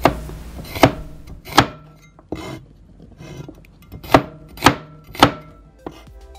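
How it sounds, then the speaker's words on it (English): A knife chops garlic and shallots into small pieces on a board, about eight sharp, separate strikes in an uneven rhythm, close and clear with quiet scraping between them. "Cut into small pieces to make it easy to smash later."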